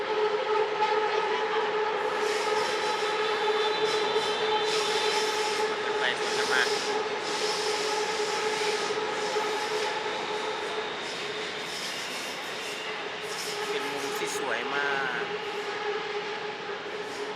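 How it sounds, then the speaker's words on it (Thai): A train rumbles past nearby in Bangkok for the whole stretch, a steady grinding roar of wheels on rails with high metallic squeals and screeches rising now and then. "มาแล้วรถไฟวิ่งไม่ขาดสายนะ"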